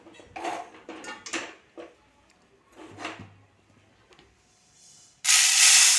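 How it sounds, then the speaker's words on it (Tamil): Roasted health-mix grains are tipped into a vessel in a kitchen, giving several bursts of rattling, pattering grain with scraping of the pan, then a loud steady hiss at the end. "அதை வந்து ஒவ்வொன்றா இப்போ எடுத்து நம்ம இதில் கொட்டிடலாம்."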